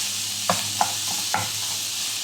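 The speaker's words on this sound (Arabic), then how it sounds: "هالطريقة أنا أقلبه. يذبل عندنا البصل" Onions frying in a pan while a spoon stirs them, three distinct scraping knocks over a steady soft sizzle, close and with no voices.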